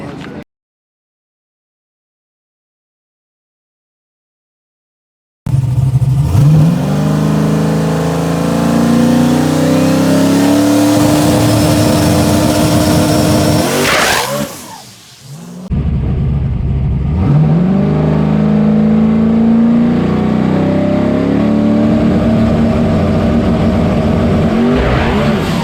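A naturally aspirated drag car launches with a loud engine roar and tire spin, revving up through its pass, then a short dip before another strong, sustained run near the listener; no talk.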